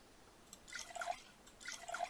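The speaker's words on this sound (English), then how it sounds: "Fill some bottles with the water we found." Water from scavenged supplies trickles into bottles in the survival roguelike game Neo Scavenger, two short dripping, gurgling pours about a second apart, faint and clear with no talking.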